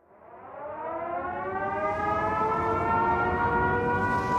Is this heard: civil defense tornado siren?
yes